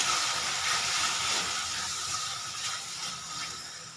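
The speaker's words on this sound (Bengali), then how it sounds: "এবার এতে সামান্য পরিমাণ জল দিয়ে দেবো। দিয়ে মশলাটাকে ভালো করে কষিয়ে নেব।" Spice masala sizzling and hissing in a pan after a little water is added, a steady bright steamy hiss that fades slightly toward the end, close and without talk.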